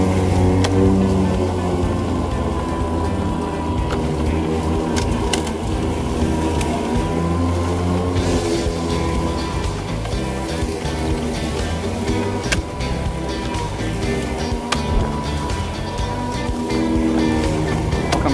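A Toro 22-inch Super Recycler 60V electric mower cuts through thick grass with its blade at maximum speed, giving a steady, dense motor whir and rustling drone that runs unbroken and fairly loud, with no speech.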